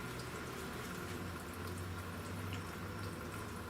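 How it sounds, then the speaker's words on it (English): Coolant drains from a Honda Civic into a pan as a steady, faint liquid trickle and splash, continuous throughout with no one speaking. "Here, coolant is draining."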